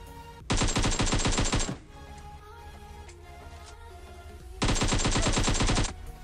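UMP submachine gun in the PUBG Mobile video game on the Miramar map, two loud sustained bursts of rapid automatic fire about a second long, separated by quieter game ambience.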